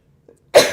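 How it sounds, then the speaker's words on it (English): A single sharp human sneeze bursts out loud and close after a faint breathy intake, then trails off quickly with no talking around it. "That was a real sneeze."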